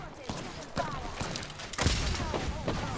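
Shooter-game gunfire bursts and booms crackle in a chaotic firefight, with repeated sharp shots, a heavier blast near the middle, and voices talking throughout.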